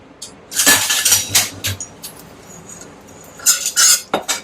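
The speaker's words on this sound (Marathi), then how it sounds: "परतून घ्यायचंय थोडस त्याचबरोबर मिक्स करून घेऊया आपण आता हे सगळं" A spoon stirs and scrapes desiccated coconut sautéing in ghee in a pan for modak, with irregular clinks and scrapes in short clusters and quiet gaps between them.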